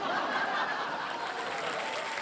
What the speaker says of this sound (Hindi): ताली बजा रहे हैं सिवाय उनकी बहन की